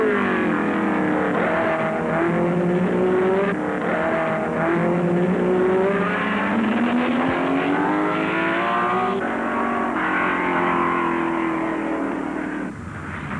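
Ferrari race cars, including a 3.3-liter model, and Porsche 904s run the 1964 Sebring 12 Hours, with engines droning and swelling loudly as they rev and shift, a continuous roar throughout.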